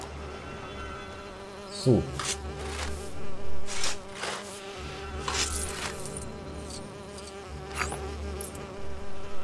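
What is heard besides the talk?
bees buzzing in the video game Lego Lord of the Rings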